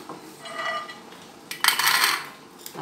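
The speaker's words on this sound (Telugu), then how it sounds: "ముందుగా పల్లీలు వేస్తున్నా" Peanuts poured into a pan for ivy gourd chutney give two short bursts of dry, hard rattling, a softer one first and a louder, denser clatter after a brief pause.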